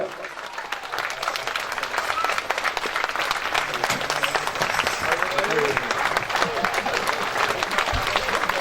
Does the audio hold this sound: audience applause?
yes